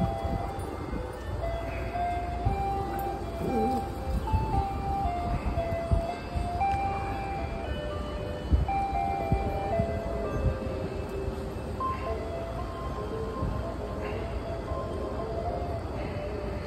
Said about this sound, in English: when you still have an ice cream truck